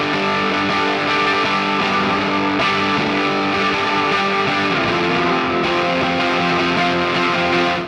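A dense, fuzzy shoegaze-style electric guitar wash drenched in reverb, with pitch swooping and bending from a whammy pedal, loud and sustained throughout.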